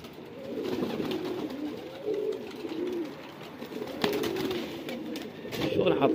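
Pigeons coo in soft, repeated rounds close by, with outdoor background noise and a brief clatter, while no clear speech is heard.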